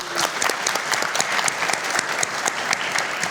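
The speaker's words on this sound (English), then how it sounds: "we'll leave that big clap for Craig" An audience claps steadily for Craig Newmark at a conference panel on cyber civil defense, a dense, even round of applause that carries on without a break.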